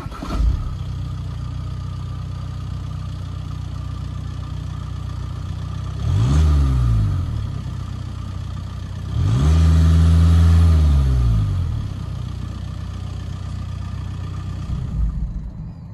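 A 2016 Volkswagen Passat R-Line with a 2-litre inline four-cylinder engine idles steadily, then gets two distinct revs, a short one and then a longer, louder one, each settling back to a smooth idle.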